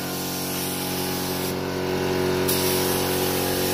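Thinned metallic car paint hisses from a spray gun in a continuous, steady close-up spray during a custom paint job on a 323 wagon, with no talking.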